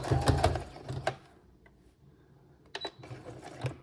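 A sewing machine stitches a split seam on a skirt in short, quiet bursts of rapid mechanical whirring separated by brief pauses.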